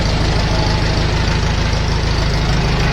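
A Farmall tractor's four-cylinder gas engine runs steadily nearby, a loud, even low throb with a fast rhythmic knock that holds constant throughout, no voices over it.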